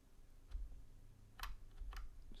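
Computer mouse or keyboard clicks while editing a math expression for inverse Laplace transforms, a few sharp quiet clicks at irregular intervals over low background hum.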